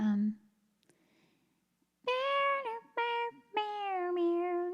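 An electric guitar bends notes into meow-like cries, a few sliding tones in quick bursts after a brief quiet gap, loud and close.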